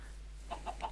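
Chickens on a chicken farm in a video game, a few short soft clucks rising to one louder cluck at the end, with no talking.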